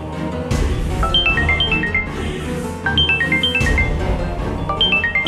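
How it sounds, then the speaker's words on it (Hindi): Phone ringtone playing a repeating melodic tune of short rising and falling tones, loud and near, in two bursts over a dramatic background score. "रानी दीदी का फोन"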